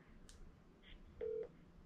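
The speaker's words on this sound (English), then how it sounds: "we're calling your Uncle Earl" A phone dials out with a few brief electronic tones, the last one held longer, close and fairly quiet with no talk over it.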